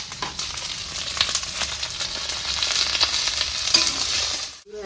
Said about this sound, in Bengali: এবারে দিয়ে দেবো আমি কেটে রাখা পেঁয়াজ।